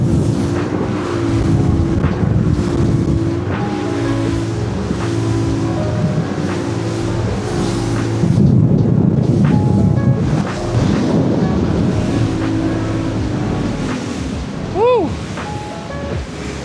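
Boat idling on the ocean at the edge of a reef while offshore fishing, with a low steady engine drone, water slapping and wind buffeting the microphone, plus a brief rising tonal squeal near the end.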